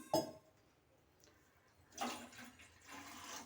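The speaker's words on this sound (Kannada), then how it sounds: "ಒಂದು ಪಾತ್ರೆಗೆ ಸ್ವಲ್ಪ ನೀರು ಹಾಕ್ಕೊಳ್ತಾ ಇದ್ದೀನಿ" Water is poured into a cooking pot, heard as a quiet splash at the start followed by a longer, faint gush of pouring water.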